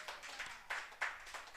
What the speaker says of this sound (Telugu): నమ్మితే ఒకసారి గట్టి చప్పట్లు కొట్టండి